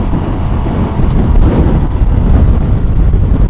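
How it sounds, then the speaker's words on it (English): A 2018 Moto Guzzi Audace cruises at freeway speed, a loud constant roar of wind buffeting the microphone that masks most of the engine sound, with no speech. "Now on freeway speeds, let's test it out."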